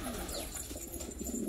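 Pigeons coo softly amid a faint background hum, a brief low murmur without voices.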